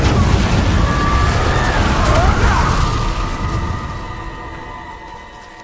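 An Incendio fire spell cast in a Harry Potter video game bursts out loud and broad, a roaring whoosh with ringing tones that gradually fades away over several seconds.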